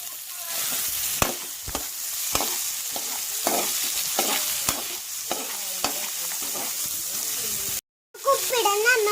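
Garlic sizzles steadily in a hot pan for samosa masala while a spoon scrapes and stirs in regular strokes, close up, with a brief dropout near the end and a voice speaking over it at the close.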